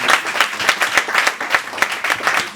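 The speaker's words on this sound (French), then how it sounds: "je vous propose d'applaudir nos intervenants." Audience applause for speakers at an association evening event, brisk clapping with distinct individual claps in a fairly small crowd, close and steady throughout the short burst.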